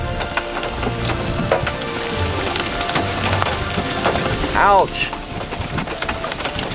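Large hail, some stones the size of hen eggs, pelts down as a tornado passes close by in Kansas, a dense steady clatter of impacts with a loud burst near the end and a brief exclamation from a person.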